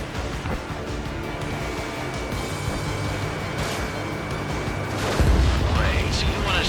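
Missile launch and explosion in Ace Combat 7: Skies Unknown, a steady rushing roar of jet and launch noise that swells into a deep, loud boom near the end, with a sweeping whoosh overhead.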